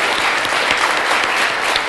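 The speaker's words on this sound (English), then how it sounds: "can you please give them a big round of applause with me?" School students applaud together, a dense, steady clapping from a crowd that fills the whole moment with no voices over it.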